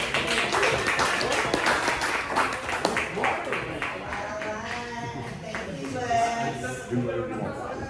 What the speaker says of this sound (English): y'all give a big round of applause for my friend Chanel